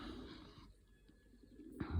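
Young pigeons coo softly inside a loft. Their low, faint calls sit under a muffled background, and a louder bump or flutter comes at the end.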